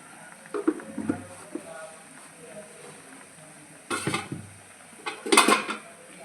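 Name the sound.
removing the lid from a cooking pot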